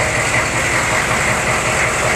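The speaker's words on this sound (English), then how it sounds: "And it's still idling, so I do not have any air in the system apparently." A 1996 GMC pickup's 6.5-litre turbo diesel, 200,000-plus miles on its original injectors, idles steadily after a fuel filter change, a continuous broadband rumble with no variation in pace.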